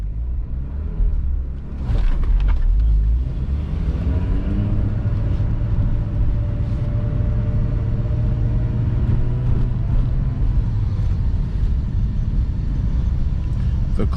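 A Mazda RX8 on a test drive gives a steady, loud engine drone and road rumble throughout, with a rising tone as it accelerates partway through.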